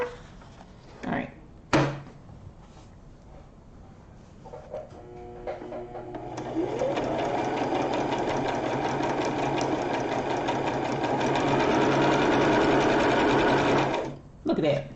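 A sewing machine running steadily as it stitches embroidery onto a rope bowl with stabilizer, a loud continuous mechanical whir for several seconds after a few short starts, ending abruptly; a voice speaks before it starts.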